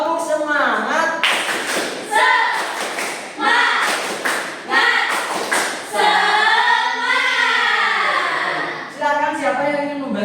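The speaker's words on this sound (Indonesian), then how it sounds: "kita tepuk semangat terlebih dahulu" A primary-school class in a Pancasila microteaching lesson does a rhythmic spirit clap while seated, sharp bursts of clapping and thumps in patterned sequence mixed with children's and a teacher's voices chanting along.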